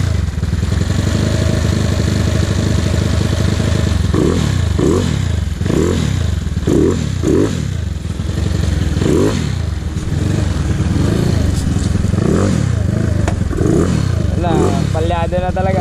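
Fuel-starved Yamaha Mio scooter, converted to a 218cc four-valve fuel-injected engine, stumbling and misfiring as it runs dry, with loud, uneven bursts of engine note that surge and sag repeatedly while voices talk over it.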